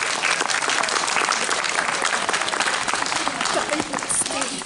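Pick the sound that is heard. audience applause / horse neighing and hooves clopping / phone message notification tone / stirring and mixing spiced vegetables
audience applause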